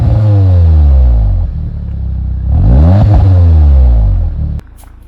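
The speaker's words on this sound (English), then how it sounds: "I'll insert a clip of the exhaust and what it puts out, what it sounds like here" A 2015 Audi TTS exhaust revs hard, the engine note swelling, dropping back, then climbing again in a second loud sweeping rev before cutting off abruptly, with no talking.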